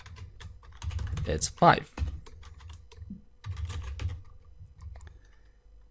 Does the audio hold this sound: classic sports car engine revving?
no